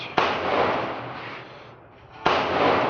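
Two sharp gunshots at an outdoor shooting range, spaced about two seconds apart, each a loud close crack followed by a long rolling decay.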